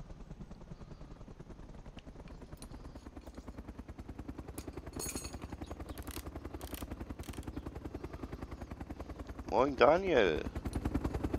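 Helicopter flying overhead in DayZ Epoch, an Arma 2 mod, with a steady rhythmic rotor chop throughout that swells louder near the end, while a player speaks briefly over it.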